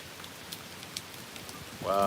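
Steady rain falls on a surface outdoors, a continuous soft patter with scattered individual drops ticking close by, and a voice begins speaking at the very end.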